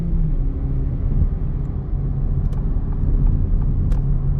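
An Acura Integra Type S drives with a steady, loud low-pitched engine rumble from inside the car while gears are shifted, with a few faint clicks and no talking.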